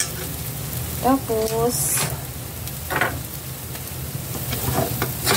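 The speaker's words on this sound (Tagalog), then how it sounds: "haluin nyo ng maigi" Oyster sauce stirred into fried rice made from leftover dishes in a pan, a soft sizzle with scraping stir strokes under a speaking voice and some low background hum.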